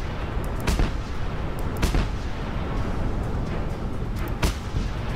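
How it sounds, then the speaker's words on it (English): Repeated cannon blasts in Just Cause 2, several sharp booms spaced a second or more apart over a steady low rumble, fairly distant and moderate in loudness. "This cannon's pretty fun, I'm not gonna lie."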